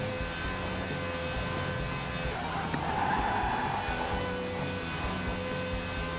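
A Bugatti Chiron and a Lamborghini Murciélago race through a curve in Forza Horizon 4, with a steady, loud engine drone and tire squeal swelling through the middle of the turn.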